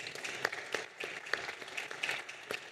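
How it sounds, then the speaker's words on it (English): Faint, sparse applause from a conference audience for a panel, with a few separate claps standing out from a thin wash of clapping, heard at a distance. "So please, let's give them a round of applause."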